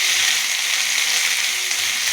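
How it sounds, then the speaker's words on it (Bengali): Carrots, beans and cauliflower frying for mixed fried rice, a steady close sizzle that holds without a break. "আপনারা দেখলেন আমি গাজর, বিনস, ফুলকপি সব একে একে দিয়ে দিলাম। এবারে একটু ভাজি।"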